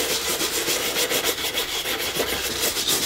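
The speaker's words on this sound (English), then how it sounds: "take a soft bristle brush, I guess, and just rub it in" A soft bristle brush rubs mink oil into suede in quick, even back-and-forth strokes, a close, dry scratchy swishing that repeats with a steady rhythm.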